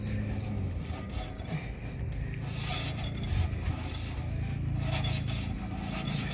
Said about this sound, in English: now start spinning it. Because you want to get the grease worked into those bearings.